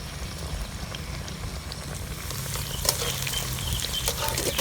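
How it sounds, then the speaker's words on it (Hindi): Okra frying in hot oil, a continuous close sizzle with crackling pops and occasional stirring scrapes, steady and alone without talk. "भिंडी जो है वो बहुत ही अच्छी फ्राई हो गई है।"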